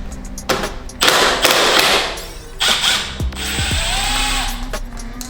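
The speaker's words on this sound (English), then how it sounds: "So I'm using a 10mm here, and I'm going to be removing this top bolt." Motorcycle brake line hardware on a CBR600RR is worked loose with a 10mm tool, heard as close, loud ratcheting and mechanical whirring bursts with clicks and clanks of metal parts in between, and no speech.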